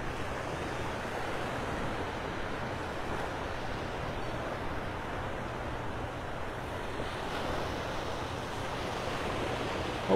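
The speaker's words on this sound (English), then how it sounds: "The tide's coming in pretty fast down here at Clam Pass." Surf from an incoming tide rolls steadily onto the beach at Clam Pass in Pelican Bay, North Naples, Florida, a continuous broad wash of waves with wind buffeting the microphone and no talking.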